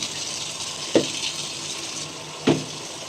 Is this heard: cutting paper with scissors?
no